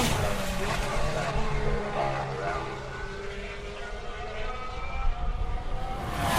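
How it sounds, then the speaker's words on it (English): Formula 1 race cars roar toward Stowe corner, about 100 metres out, engine whine and rushing air rising and falling, loud and close, with a voice faintly underneath. "This is the sound of the cars approaching Stowe, about 100 metres from the corner."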